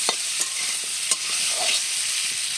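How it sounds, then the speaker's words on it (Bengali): Potato pieces frying with salt and turmeric in a pan, a steady bright sizzle with a few sharp scrapes of stirring, close and loud, with no talking. "তো নুন হলুদ দিয়ে আলুগুলো আগে ভেজে নিচ্ছি"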